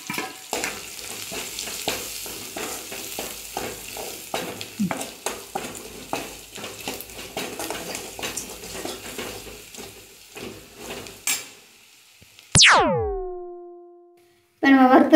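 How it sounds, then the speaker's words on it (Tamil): Garlic and onion fry and are stirred in a pan for a Tamil herbal curry: a dense, steady sizzle with repeated scraping stirs for about twelve seconds. A brief silence follows, then a bright, sweeping chime-like effect closes it. "இப்போ நல்லா பூண்டு நல்லா வதங்கிட்டு பாருங்க."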